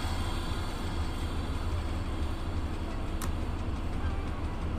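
A train pulling into a station in the video game Train Driver 2, a steady low rumble of rolling wagons and engine with a constant wash of noise, moderately loud throughout.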